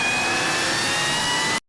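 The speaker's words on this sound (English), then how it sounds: "That rising whine comes from the supercharger compressing air before it reaches the engine." Supercharged V8 of a ZR1 roaring at a steady, loud pitch, with a high supercharger whine riding over the dense engine noise before it cuts off sharply.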